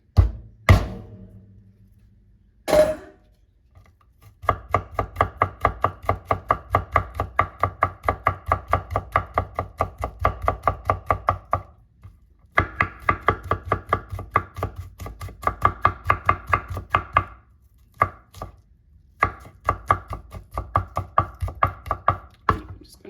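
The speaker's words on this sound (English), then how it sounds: "we're going to also mince 2 garlics. I'm just going to smash these." Garlic cloves are smashed with a couple of loud single thumps, then minced on a cutting board in long runs of rapid, even knife chops, near and loud, with short pauses between bursts.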